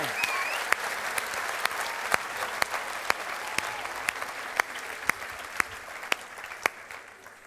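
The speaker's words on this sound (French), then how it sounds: "Est-ce qu'on peut applaudir le Créateur?" Evening gathering audience claps in unison, a steady rhythmic beat of sharp claps roughly twice per second over a softer background of scattered clapping and crowd murmur.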